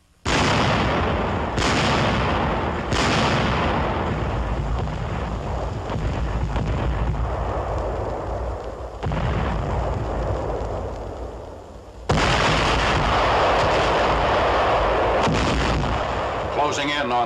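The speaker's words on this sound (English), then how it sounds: "The ultimatum is rejected and hundreds of guns open fire on the encircled city." Massed artillery guns fire on Aachen in WWII archive footage, with loud repeated booming blasts, several sharp reports near the start and another heavy burst later, over a continuous rumbling roar.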